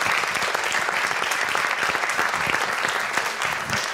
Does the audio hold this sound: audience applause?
yes